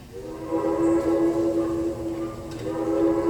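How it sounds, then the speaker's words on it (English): A train rolls into town as a stage sound effect in a theatre production, a loud sustained horn tone over a low rumbling bed, held steady throughout. "Whenever I hear that train coming into town, I always get a feeling of excitement here."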